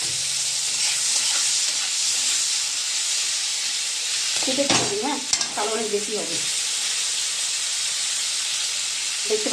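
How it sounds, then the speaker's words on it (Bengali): Prawns fry in a pan of hot oil with a steady, close sizzle and hiss throughout, and brief bursts of louder crackling and spattering midway. "দেখুন চিংড়ি মাছটা ভাজা হয়ে গেছে"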